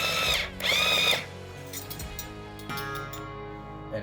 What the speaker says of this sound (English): I have the Power Peg tuning machine here.